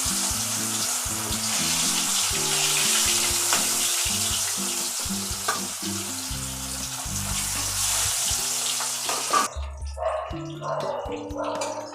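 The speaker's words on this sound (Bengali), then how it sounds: "আমার তেল গরম হয়ে গেছে, এবার আমি তেলের মধ্যে মাছগুলো ছেড়ে দিচ্ছি।" Katla fish sizzle loudly in hot mustard oil in a kadai, a dense, steady hiss of frying that cuts off abruptly near the end, leaving quieter bubbling and a few clinks.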